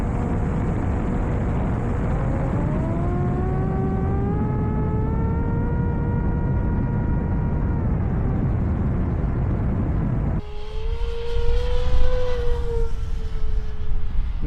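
A high-speed model airplane's whining engine drones steadily at 50% throttle on a slower pass, its pitch rising slightly as it passes, then the tone shifts and grows a bit louder near the end.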